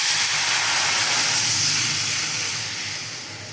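Mustard paste hits a hot pan of turmeric in a home kitchen and sizzles with a loud, continuous close hiss that fades slightly at the end.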